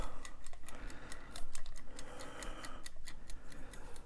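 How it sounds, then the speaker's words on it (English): A wind-up kitchen timer ratchets as it is turned, a rapid run of close, sharp clicks and ticks with a rough grinding undertone and no voices. "Let's wind up the timer."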